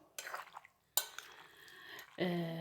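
Pasta stirred in a pot, close bursts of scraping and clinking from a utensil against the pan, separated by short pauses and ending in a brief sizzle with a tonal ring, with no voice heard.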